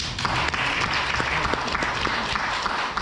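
An audience at a Pyeongtaek sustainable development lecture and discussion claps for the city mayor in a short burst of steady, moderately loud applause.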